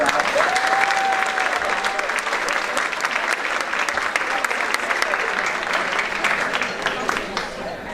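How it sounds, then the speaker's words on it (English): An audience gives sustained, even applause for Sarah at a cancer support gathering, dense clapping throughout with a brief whistle early on, tapering slightly at the end. "I'd like to give a round of applause for Sarah and invite her out"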